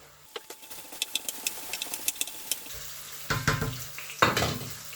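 Tap water runs into a kitchen sink during hand washing, a soft steady hiss broken by louder splashing bursts toward the end, with faint clicks and clatter around it.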